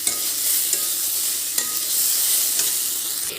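An Assamese dry-fry dish sizzling in a pan, a steady close hiss of frying with light scrapes and knocks as it is stirred, and no one talking.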